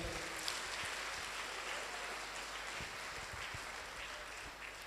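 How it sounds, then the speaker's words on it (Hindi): Audience applause at a motivational business meeting, a steady, dense wash of clapping that stays faint and distant throughout with no voices over it. "मैं चाहूंगा इनके लिए जोरदार ताली आप लोग बजाएं"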